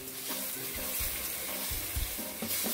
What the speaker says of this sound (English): We're gonna add the garlic. Give it a stir.